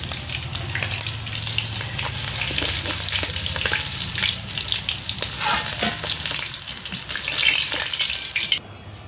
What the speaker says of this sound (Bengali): এগুলো এরকমভাবে সবগুলো ভেজে নেব।